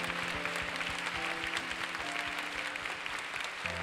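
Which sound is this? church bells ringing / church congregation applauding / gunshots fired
church congregation applauding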